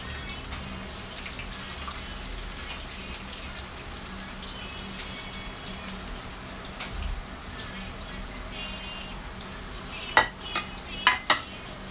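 White and red onions fry together in a pan with a steady, close sizzle, and several sharp clinks of a utensil stirring near the end, with no talk.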